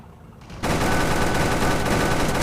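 Sudden sustained burst of rapid automatic fire from a Humvee M1038 anti-aircraft vehicle in the tank video game Clash of Panzer, a dense loud roar that starts abruptly after a quiet moment and continues unbroken, with no voices over it.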